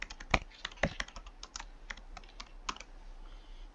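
Computer keyboard typing while company details are entered on a website sign-up form: a quiet, irregular run of clicky keystrokes with a few louder taps, close to the mic, with no talking.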